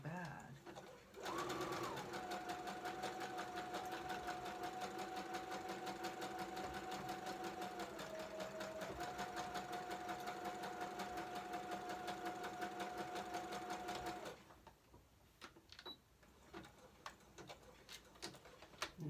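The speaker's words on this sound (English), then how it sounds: "that I'm sewing actually has wire in it, so I'm going to have to be kind of careful or I'll break my needle" A sewing machine runs steadily for about twelve seconds, stitching lace that has wire running through it. The motor holds a constant whir that dips briefly in pitch partway, then stops abruptly, leaving a faint room background.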